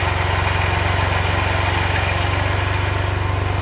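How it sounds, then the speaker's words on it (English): Small engine idling with a Morgan Carbtune gauge hooked to its little inlet pipes, a steady, loud, close rumble with even pulsing and no voices. "Motor sounds different than the original one."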